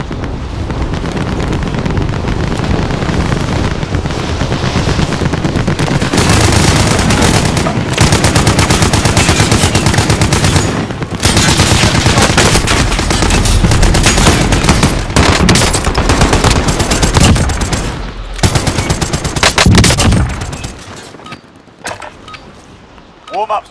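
Mac 10 gunfire rattles through a Warzone resurgence quads match in sustained, loud automatic bursts across most of the stretch, mixed with other shots and wind-like noise and overlapped by players talking, before it thins out near the end.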